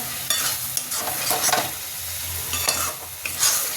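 Okra curry fries in a pan while being stirred, with a close, steady sizzle broken by repeated scraping stirs and bursts of crackling, and no talking.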